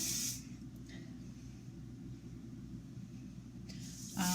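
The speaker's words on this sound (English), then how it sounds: "I would go ahead and start to spray some of this so it doesn't go anywhere" Hairspray misted over a curly hair up-do, a soft continuous hiss that swells briefly at the start and again at the end, close to the microphone over a low steady background hum.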